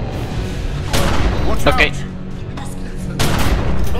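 Gunfire in The Secret World bursts out in short, loud volleys spread over a few seconds, close and sharp, while players talk excitedly over and between the shots.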